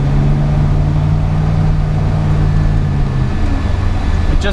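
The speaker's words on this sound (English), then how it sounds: "It's just like an old truck with some turbo mufflers on it." A 1979 Chevy K20 squarebody pickup fitted with turbo mufflers and a stall converter, heard while cruising: a steady, moderately loud low engine drone that holds throughout, with no talking.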